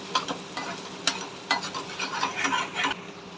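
Cluster beans sautéing in a pan, a steady sizzle broken by scraping stir strokes and a few sharp clinks of the spoon against the pan, close and fairly loud, with no talking.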